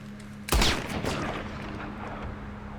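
A sharp gunshot cracks in Red Dead Redemption II's slowed Deadeye mode, followed by a long, drawn-out reverberant whoosh and tail over a low steady hum.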